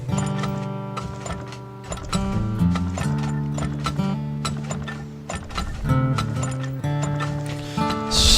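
Horse hooves from the Turmoil game: a steady run of clip-clop and clacking, mechanical taps over a bed of tonal game music, close and continuous without talking.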